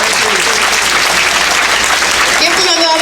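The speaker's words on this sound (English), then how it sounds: "Give them another round of applause." Audience applause at a Protect St. Helena Island rally in the Gullah/Geechee Nation, a dense, steady wash of clapping from a crowd, loud and close throughout, with voices mixed into the clapping.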